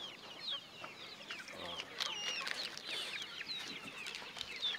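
Young chicks peep and cluck continuously at close range, a busy overlapping chatter of small birds with no talking.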